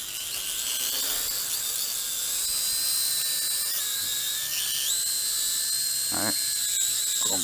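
A WLToys Q222G FPV quadcopter flies nearby, its small motors holding a high, steady whining buzz that shifts pitch as it moves, with a couple of brief voice bursts underneath.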